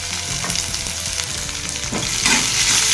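Mustard seeds, cumin, fenugreek and onion fry in hot oil for a broad bean and brinjal sambar, producing a loud, steady sizzle with scraping stirs that grows slightly louder near the end.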